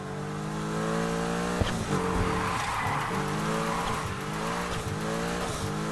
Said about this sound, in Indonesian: Textbook drift.